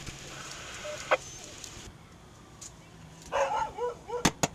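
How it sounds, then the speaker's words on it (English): A few distant dog barks ring out in a short cluster outdoors, faint and echoing, after a quiet stretch with a soft sharp knock earlier. "I hear dogs, so they got the animals in there."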